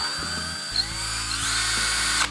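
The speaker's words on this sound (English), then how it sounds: "That's a variable speed drill." Variable speed hand drill boring into a Mosin Nagant rifle while fitting an ATI scope mount, its motor whine rising steadily in pitch as the trigger is squeezed, close and alone.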